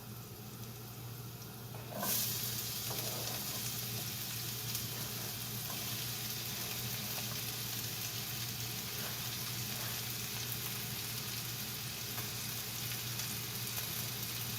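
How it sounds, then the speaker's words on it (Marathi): Onion dropped into hot oil over reddened garlic on a medium gas flame, a sudden burst of sizzling that settles into a steady, close frying hiss with no talking. "जरा लसूण मस्त अशी छान लालसर झाली की आता ह्याच्यावर तुम्ही हा कांदा टाका"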